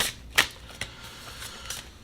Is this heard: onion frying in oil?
no